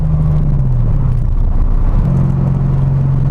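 A Corvette engine idles and hums with a deep, steady rumble, loud and close, with a brief dip in pitch midway before settling back.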